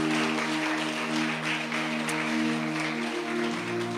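A congregation at a Catholic preaching service claps steadily as sustained musical tones ring underneath, the applause moderately loud and continuous throughout.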